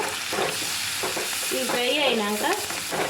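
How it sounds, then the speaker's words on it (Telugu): Sliced onions fry with turmeric in a pan for a fish curry, a constant close sizzle with soft stirring scrapes throughout and a brief tonal squeak partway through. "ఉల్లిగడ్డ వేసుకొని ఈ మంచిగా ఫ్రై అవుతుంటే కొంచెం పసుపు వేసుకొని"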